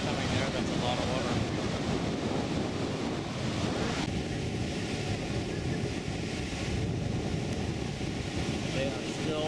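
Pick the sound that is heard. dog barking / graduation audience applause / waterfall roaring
waterfall roaring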